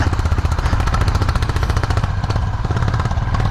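A Honda Highness motorcycle engine thumps loudly and rapidly while climbing a hill road near Mukteshwar, Uttarakhand, in low gear, a close, continuous pulsing rumble with wind noise.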